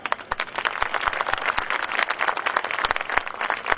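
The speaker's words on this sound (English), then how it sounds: "they deserve a big round of applause" Parents applaud at a school annual concert, a dense, lively burst of clapping from a large audience in a hall, sharp individual claps standing out and continuing evenly throughout.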